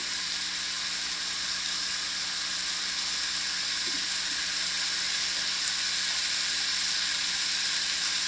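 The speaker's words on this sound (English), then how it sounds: "I hear it sizzling." Steady, bright sizzling of a hamburger patty frying in a hot pan, a continuous crackling hiss with no talking.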